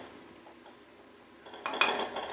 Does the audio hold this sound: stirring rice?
yes